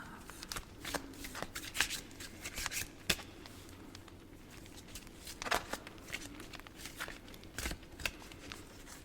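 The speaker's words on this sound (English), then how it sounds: "Shuffling got so loud and messy" Tarot cards being shuffled, close and fairly loud, with repeated riffling bursts and soft slaps in an uneven rhythm.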